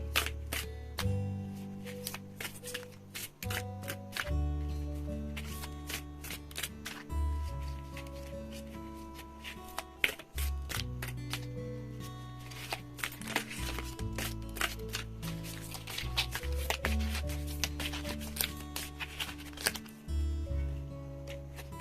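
Tarot and oracle cards are shuffled by hand in a repeating rhythm of riffling and tapping, close and soft, with faint background music.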